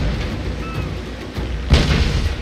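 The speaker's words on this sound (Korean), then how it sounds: "꽝! 님 대포 맞아봤음?" Cannons fire in Total War: Shogun 2 during a naval battle. A dull, continuous roar of battle carries a heavy boom that swells partway through, with no voices over it.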